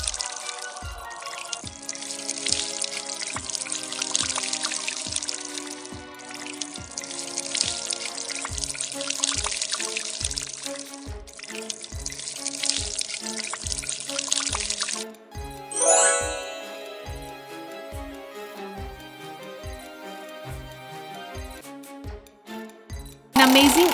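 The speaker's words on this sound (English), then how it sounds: "Now open the bottle. You can see the water coming out from the bottle." Water pours and trickles out of an opened bottle in a kids' learning game, set over a steady looping musical beat with occasional brighter splashy bursts.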